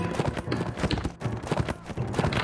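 Horse hooves gallop in the Mount and Blade video game, a steady rhythmic clip-clop of hoofbeats repeating close and fairly loud throughout a mounted battle.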